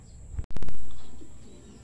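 Racing pigeons arriving home after a 55 km club training release, a short close-up flurry of wing flaps and soft calls with a sharp break partway through.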